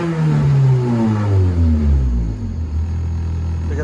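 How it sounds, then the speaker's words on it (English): A Honda Civic engine at operating temperature, with an idle fault adjusted at the idle screw, revs up steadily and then drops back toward idle, a loud, close, continuous rumble. "I'm gonna give it some gas."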